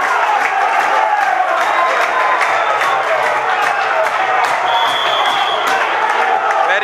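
A stadium crowd cheers its team from the stands at a football match, a loud, continuous wash of cheering and whoops with scattered claps and occasional voices throughout.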